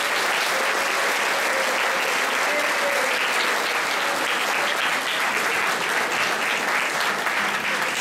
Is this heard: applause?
yes